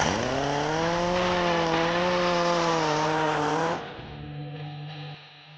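A power sander sanding vinyl off a Monte Carlo car panel drones loudly and steadily, its motor pitch wavering slightly, then drops to a lower, quieter hum after a few seconds.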